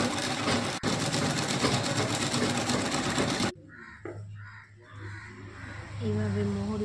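An electric sewing machine stitches a seven-year-old child's palazzo pants, running in a loud, continuous whir for about three and a half seconds before stopping abruptly. Quieter room sounds and a voice follow.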